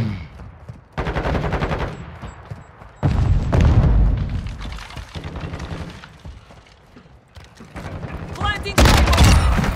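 Modern Warfare 2 gunfire: bursts of automatic rifle fire and loud booming shots in rapid, irregular volleys, dense and close, with players talking over parts of the action.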